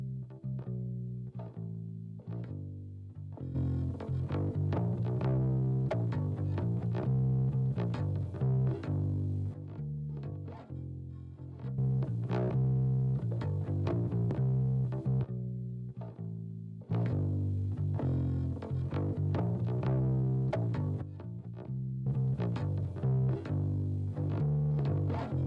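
Bass guitar plays a rhythmic line of plucked notes, first clean, then joined by a gritty distorted edge with audible string and fret noise.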